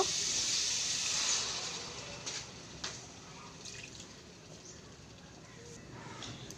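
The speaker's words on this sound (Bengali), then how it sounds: "এখন দেব আলু আর ফুলকপিটা গরম জল দিয়ে দেব" Hot water pours steadily into a pan of Bengali rohu fish curry with potatoes and cauliflower, cooked outdoors, a continuous watery splash and trickle that eases after the first seconds, with faint clinks and background noise.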